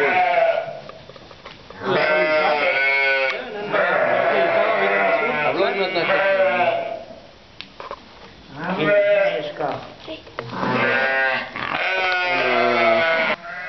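A flock of sheep in a valley pasture bleats repeatedly and close by, with overlapping calls in several long bursts separated by brief quieter gaps.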